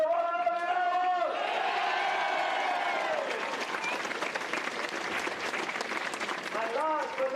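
Crowd at the Westmeath GAA senior football final day breaks into loud, sustained applause with some cheering, following an announcer's voice over the PA.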